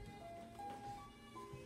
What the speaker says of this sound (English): your bouncer's dying of batteries